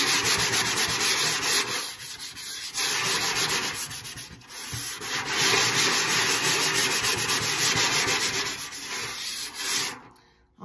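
Sandpaper rubbing against the edges of a drum being prepared for painting, a loud, fast back-and-forth scratching with a few short pauses, steady and close up.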